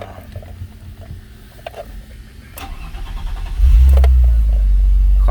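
A BMW 320i Touring engine starts from cold after quiet surroundings, cranking briefly and then catching into a loud, steady low rumble that holds for the final seconds.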